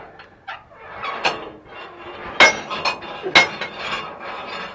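Chopper hammers on the rotor of an S-Series STS combine are flipped by hand, giving close metallic clanks and knocks with a few sharp ringing strikes among duller handling thumps.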